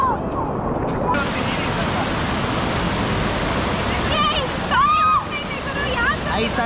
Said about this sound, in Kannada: ತುಂಬ ಫೋರ್ಸ್ ಆಗಿ ಬರುತ್ತೆ ನೀರಿಲ್ಲಿ.